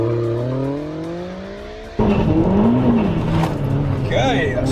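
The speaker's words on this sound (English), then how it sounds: "Okay, that's quite a lot of wheel spin." Decatted Vauxhall Astra VXR Nurburgring Edition with over 400 horsepower accelerates hard with wheel spin, a rising engine note giving way to a loud, rough roar and tyre noise, with people talking over it.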